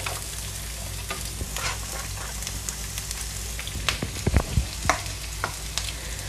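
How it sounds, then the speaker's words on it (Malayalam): Sliced shallots and curry leaves frying in hot oil for mushroom theeyal, a dense continuous crackling sizzle with a few spattering pops and stirring scrapes, close and steady, no talking. "ഇനി നമുക്ക് അടുത്ത ചെറിയ ഉള്ളി ചേർത്ത് കൊടുക്കാം."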